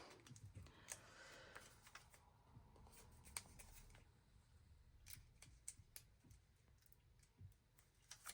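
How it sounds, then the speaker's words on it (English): Quiet scissors snipping paper for a handmade stacked craft page, a scattered series of short crisp clicks and cuts at close range with no speech. "I just need to do a little trimming."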